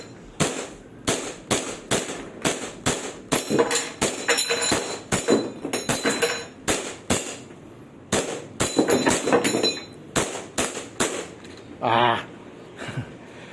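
An SRC Hi-Capa 5.1 Athletic Version airsoft CO2 pistol is test-fired in a long run of sharp, close pops. The shots come in quick bursts with brief gaps and end in a short pause, with occasional voices in the background.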